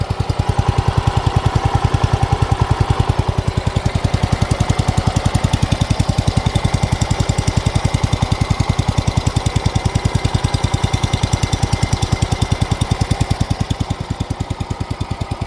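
A 1969 John Deere 112 lawn tractor engine runs roughly, a loud steady rapid knocking thump, blowing oil from a plugged valve cover breather, continuing alone without talk and fading slightly at the end.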